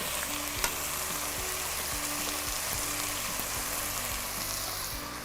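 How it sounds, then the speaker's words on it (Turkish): Potato slices frying in a pan turn crisp with a steady, dense sizzle and occasional scraping stirs, close and constant throughout with no talking. "Şimdi bir anlamda patateslerimin kızarmasına bakıyorum"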